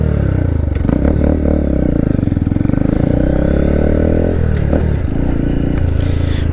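A 2022/23 Honda Grom learner motorcycle's small engine runs steadily and loudly up close, with a constant mechanical drone and a slight dip in pitch partway through.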